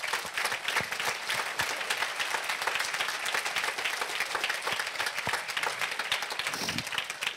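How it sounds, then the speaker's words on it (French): Audience applause at an HR congress, dense and continuous clapping from a large crowd that holds steady throughout, close and loud. "On n'a pas fini de t'applaudir,"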